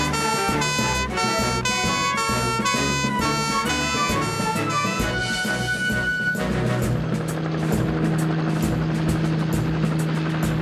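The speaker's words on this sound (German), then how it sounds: "Wirf den Hubschrauber an" A cartoon helicopter starts up and flies, its engine whine and rotor chop building steadily into a continuous drone, set against layered music.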